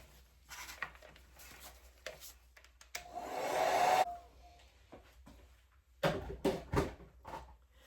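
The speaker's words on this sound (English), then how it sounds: "so we've dried that with a hairdryer" A hair dryer drying paint blows for about a second, a steady airy whoosh with a hum, between quiet handling and tapping noises.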